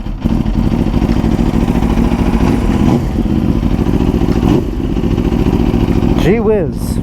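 A sport bike motorcycle engine cold-starts and settles into a loud, steady idle, with a brief rising rev near the end and a voice speaking over it.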